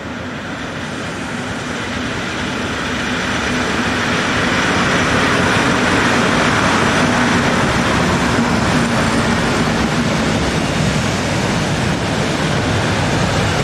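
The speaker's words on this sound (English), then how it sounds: "Number 3618 ambles through with the 1154 Belval-Usine to Longwy steel bar train" Locomotive 3618 hauls a steel bar freight train from Belval-Usine to Longwy through Rodange station. A loud, broad rumbling roar builds over the first few seconds, then holds steady and close as the wagons roll past.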